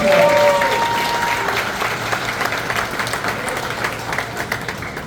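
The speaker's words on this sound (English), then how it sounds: "huge round of applause for the culinary team, operations, everyone is going on" A crowd at a Six Flags Over Texas Q&A applauds a culinary and operations team, a loud, even burst of clapping that slowly thins, with a brief tone and some voices mixed in at the start.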